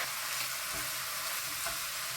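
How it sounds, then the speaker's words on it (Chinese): Tofu skin stir-frying in hot oil, a dense continuous sizzle with faint stirring underneath, close and steady throughout. "下入腐竹煸香"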